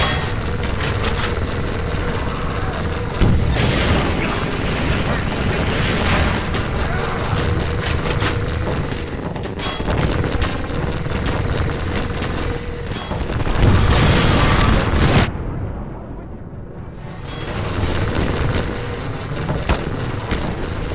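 A Strider's cannon firing in Half-Life 2 VR: sustained loud blasts and crackling gunfire roar continuously, broken by a brief drop near the end before the din resumes.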